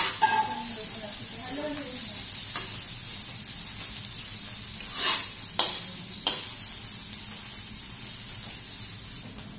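Food frying in a pan and being stirred, a continuous close sizzle with a few utensil scrapes and knocks, while a voice talks briefly near the start.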